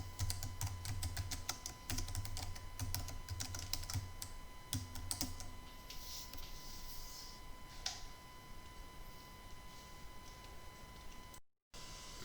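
Rapid typing on a computer keyboard, a quick run of close, crisp key clicks at first that thins into sparse taps against a faint steady hum.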